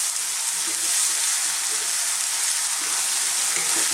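Pasta ingredients fry in a pan for spinach and mushroom pasta, giving a steady, loud broadband sizzle throughout with faint clinks underneath.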